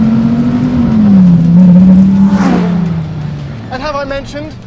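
A Dodge Viper ACR engine holds a loud, steady drone that rises and falls with the revs before trailing off, and a voice speaks over it near the end.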